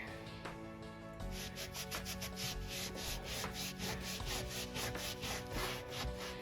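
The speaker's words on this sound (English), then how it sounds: "And I'm scrubbing it pretty good." A surface is scrubbed hard by hand after a cleaning product is sprayed on, in rapid back-and-forth rasping strokes. The rubbing is close, rhythmic and continuous, with no talking.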